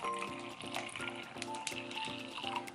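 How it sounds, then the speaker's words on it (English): A cup of water poured into a Ninja blender cup makes a continuous splashing, filling gush. Rhythmic background music plays underneath and no one speaks. "So I'm gonna pour all of this in here."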